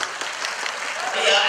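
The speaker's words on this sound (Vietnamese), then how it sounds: "Xin một tràng pháo tay chúc mừng em có đêm đi." A party crowd applauds at a birthday celebration with dense, steady clapping that swells near the end, while voices carry on over it.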